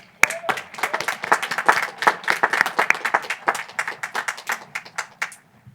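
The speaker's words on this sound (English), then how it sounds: "graduates, let's all give them a round of applause" A graduation audience in a university chapel claps for parents and families, a short burst of applause that starts abruptly, stays lively for about five seconds and then fades.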